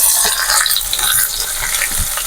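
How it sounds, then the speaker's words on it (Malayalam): Chopped onion and green chillies sautéing in hot oil with whole spices for a cauliflower curry, a loud continuous sizzle with scraping stirs of the pan throughout. "അരിഞ്ഞു വെച്ച ഉള്ളിയും പച്ചമുളകും ഇതിലേക്ക് ഞാൻ ഇട്ട് കൊടുക്കുന്നുണ്ട്"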